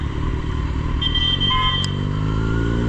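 A Kawasaki Z900 motorcycle rides through traffic in Dehradun, its engine holding a steady, loud low rumble, with a brief higher tone and a faint click mid-way and no talking.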